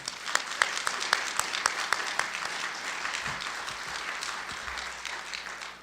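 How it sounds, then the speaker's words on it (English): Audience applause for two women kitchen staff at a high school scholar celebration dinner, a steady, dense clapping from a crowd, sharper near claps at the start, then an even wash of sound that fades toward the end. "A round of applause for two women in the kitchen."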